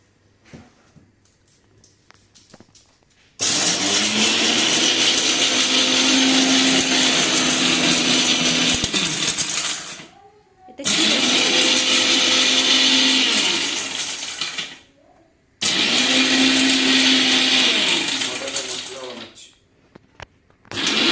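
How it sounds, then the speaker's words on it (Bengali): An electric vegetable chopper grinds in three loud bursts of several seconds each, a whirring motor with rattling contents, separated by short pauses with quiet background sounds. "ওই ভেজিটেবল ইয়ে চপার যেটা আছে না ওতে গুড়িয়ে নিও"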